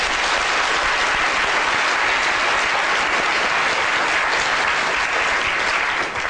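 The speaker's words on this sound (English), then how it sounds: "Big round of applause." Audience in a lecture hall breaking into loud, sustained applause, dense even clapping that fills the room throughout without pause.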